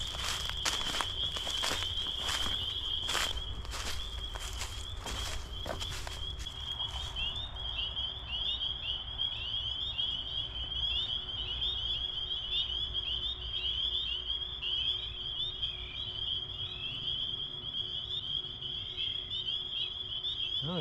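A loud outdoor chorus of frogs at night, a continuous high trilling drone with repeated croaks, with footsteps crunching nearby during the first seven seconds before the frogs carry on alone.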